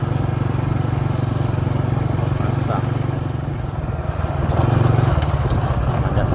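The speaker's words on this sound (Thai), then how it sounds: "ขับรถไถหน้า" A tractor engine driving along a rural road through rice fields in Laos, a steady low mid-pitched chug with a loud, continuous rumble that swells slightly near the end.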